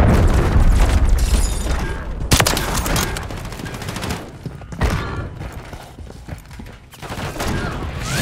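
A cruise missile strike in a shooter game, rendered as a heavy rumbling explosion with a loud booming onset, then sharp blasts and rolling low-end debris fading over several seconds.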